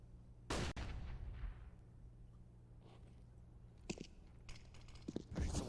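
Loud AWP sniper rifle shot in a Counter-Strike match on the Mirage map, a sharp blast with a ringing tail, followed by fainter gunfire and clicks later on, ending in another burst of shooting.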